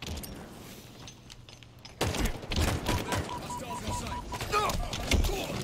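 A grenade goes off during a Halo Oddball match, with a sudden sharp blast followed by rattling gunfire and other game effects, while players talk quietly in the background.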